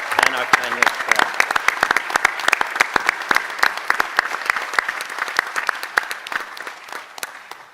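A room full of people at a board of education meeting applauds retirees and tenured staff, the clapping dense and steady before gradually thinning out toward the end.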